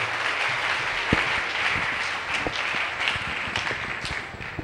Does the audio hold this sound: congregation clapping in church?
yes